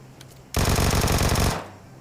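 A shooter game played on an iPad lets out a single loud, fast burst of automatic gunfire lasting about a second, sharp rhythmic shots packed tightly together, then quiet.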